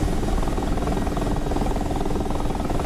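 Helicopter rotor and engine drone in the DCS World combat flight simulator, a loud, steady whirring buzz with rapid blade chop that runs unbroken throughout, with no speech over it.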